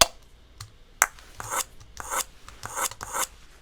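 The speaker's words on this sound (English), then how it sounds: "With that, we have a bevy of coconut sounds." Hollow scraping and knocking sounds from real coconut shells, a few sharp taps followed by rhythmic rasping rubs, close and moderately quiet.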